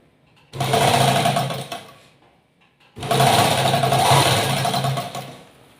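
An electric sewing machine stitches the seams of a salwar pant in two sustained runs of whirring, a little under two and a half seconds each, with a short pause between them. The machine is close and loud and no voices are heard.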